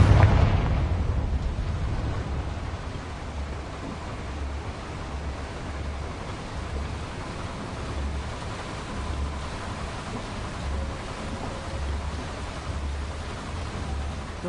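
A Confringo fire spell detonates in Hogwarts Legacy, a loud blast at the start that decays into a long, low rumbling roar with steady pulsing bass throughout, no voices.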